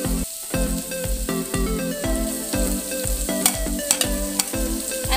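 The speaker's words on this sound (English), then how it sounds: "And saute for 1 minute." Garlic and ginger sauté in a pan of hot oil, a steady close sizzle with stirring scrapes and a few sharp clinks, over a regular low background beat.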